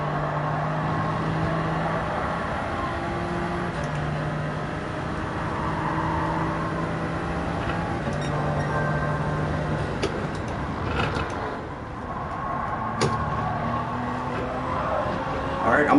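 A race car engine drives a racing line through a tough corner, its tone sweeping up and down as it shifts through gears, with a steady droning pitch that dips and climbs, tire noise and occasional sharp clicks near the end.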